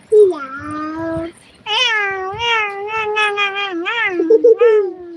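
A person imitates a cat, giving a string of drawn-out, high-pitched meows and caterwauling cries up close, one long call followed by several wavering ones.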